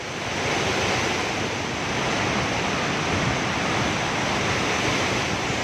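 Typhoon wind roars without a break during a super typhoon in the Philippines, a dense, loud, constant rushing blast battering the microphone for the whole stretch, with no voices.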